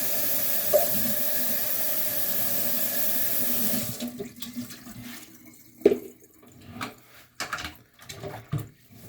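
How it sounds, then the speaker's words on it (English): Dish parts rinsed under a running kitchen tap, a steady close rush of water for about four seconds, then broken splashes and drips as the pieces are moved and handled. "Rinse off all your parts"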